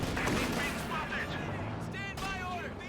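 Anti-tank gun fire in the Company of Heroes 2 battle, a loud booming shot amid continuous combat noise, with speech-like voice effects and battlefield clutter throughout.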